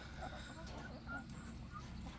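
Soft clucking from chickens close by, scattered brief calls over a steady outdoor background with some faint talk.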